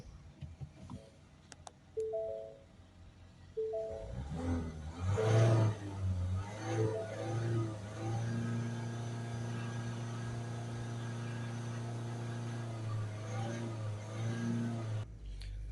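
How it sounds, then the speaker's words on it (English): A Ford Mondeo 1.5 TDCi diesel, which has an exhaust gas temperature fault, starts and settles into a steady, low idle hum that runs evenly for several seconds before cutting off. "The engine's only been running a few seconds."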